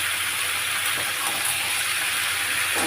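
Vegetables — jackfruit seeds, potato and greens stalks — hit hot spiced oil in a Bengali prawn and Malabar spinach ghonto, giving a loud, steady, close hiss of sizzling that holds throughout with no talk.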